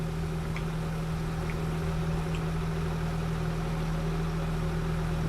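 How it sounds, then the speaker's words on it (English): Tractor engine idling steadily up close in a farming video game, a loud constant low hum with a strong tonal drone throughout, no talk over it. "I know this tractor's really loud right next to me."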